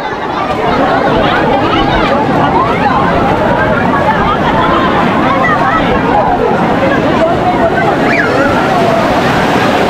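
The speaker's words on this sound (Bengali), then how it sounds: "ঢেউগুলো দেখো" Sea waves wash in at crowded Digha beach, a steady broad surf rush largely buried under loud, continuous crowd chatter and nearby voices.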